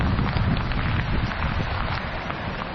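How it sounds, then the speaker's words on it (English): Heavy rain mixed with hailstones pelting down during a walk at Great Langdale in the Lake District, a loud, dense, steady roar of drops and hail close to the microphone. "It's still a mixture of hailstones and heavy rain."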